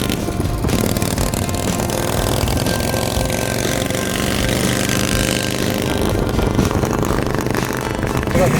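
A custom project motorcycle's engine runs steadily and loudly up close, a continuous rough mechanical roar with a throbbing idle character that holds for the whole stretch.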